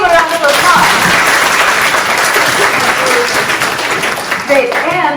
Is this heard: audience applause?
yes